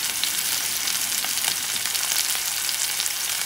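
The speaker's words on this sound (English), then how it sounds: "this T-bone is going to cook fast. It's lean meat because it's bison." Lean bison T-bone steak frying in a cast iron pan, giving a steady, close, crackling sizzle with small pops throughout and no voices.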